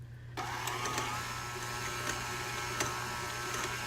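An electric mixer starts up and runs with a steady whirring hum while beating chocolate cake batter with cocoa powder, close and continuous after a brief quiet start.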